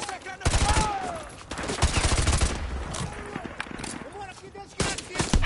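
Rapid bursts of game gunfire crackle and overlap almost continuously during the No Russian mission in Call of Duty, loud and close, with sustained automatic volleys and scattered single shots.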